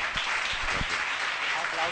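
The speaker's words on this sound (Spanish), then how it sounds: "Un aplauso también para Curro" Audience applause in a school hall as a student panel member named Curro is welcomed, a steady broadband wash of clapping that fills the short moment with a few low thumps beneath it.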